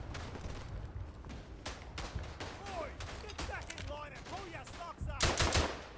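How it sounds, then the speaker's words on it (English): Machine gun fire in the World War I game Verdun, with rapid overlapping bursts and scattered shots, near and loud, that swell toward the end, while a voice talks over parts of it. "This is probably where the machine gun will be slightly more useful."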